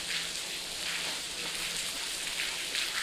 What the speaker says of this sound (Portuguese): aqui chove bastante